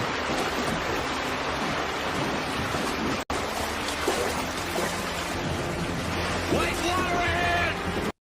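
A river rushes and churns toward a waterfall as a boat is carried over it, a loud, steady broadband roar of water that cuts out briefly partway through, with voices mixed into the noise.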